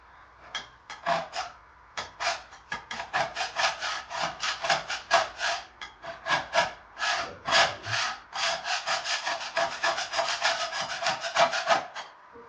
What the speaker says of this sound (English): This is just from scraping it.